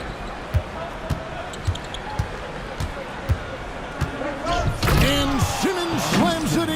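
A basketball dunk in the NBA 2K25 video game during a simulated Nets at 76ers NBA Cup game, with repeated ball bounces on the court building to a loud slam over crowd noise while a commentator talks.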